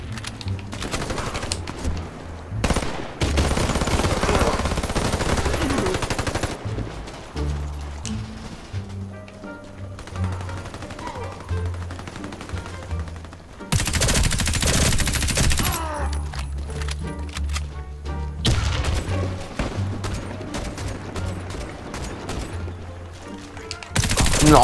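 An H&K MP5 submachine gun firing in the online shooter Warface, long loud automatic bursts broken by short pauses, with other game gunfire and sounds in between.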